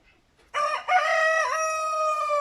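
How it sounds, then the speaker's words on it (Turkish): Roosters of the İspenç breed crowing close by, a single loud, sustained call rising sharply and holding steady for about two seconds after a faint lead-in, with no talk. "horozlarımız da ötüyor"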